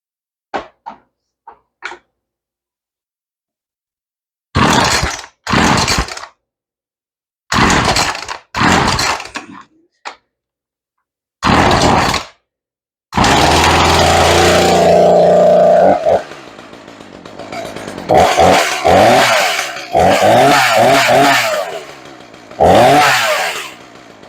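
An old chainsaw that had sat unused, started cold indoors: several pull-cord yanks that sputter and catch briefly, then the engine fires, idles and revs repeatedly, loud and close.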